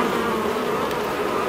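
Dense, steady buzzing of many honeybees at an opened beehive during a honey harvest check, close and continuous throughout without pause.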